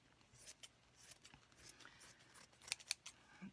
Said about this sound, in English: you're going to cut them out.